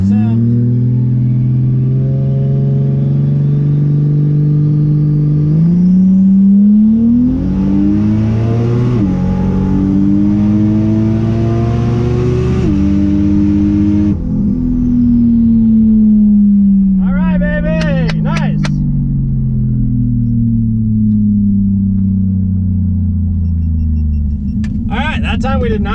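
A turbocharged race car during a street cash race, its engine heard loud and close, revving up through several gear changes in a long, rising pull, then easing off, with short bursts of other noise near the end.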